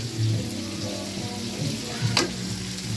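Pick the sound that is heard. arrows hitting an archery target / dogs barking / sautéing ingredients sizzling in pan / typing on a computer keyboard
sautéing ingredients sizzling in pan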